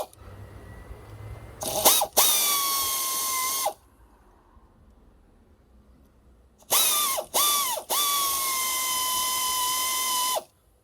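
A cordless power tool or electric ratchet tightens the oil filter housing bolts on a Dodge Challenger in short whirring bursts, each rising in pitch then holding steady, close and loud with quiet gaps between.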